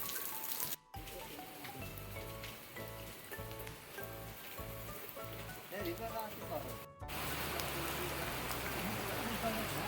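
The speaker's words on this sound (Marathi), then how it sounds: "तेवढ्यात पावसाने सुरुवात केली." Rain falls steadily in a continuous soft patter on surfaces, with a brief dropout, then grows denser and louder near the end; no voices are heard.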